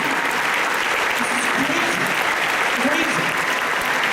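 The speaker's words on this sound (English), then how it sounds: "give yourselves a round of applause" A packed convention hall audience at a San Diego Comic-Con TV panel bursts into sustained applause, dense loud clapping with light cheering from a large crowd, holding steady throughout without a break.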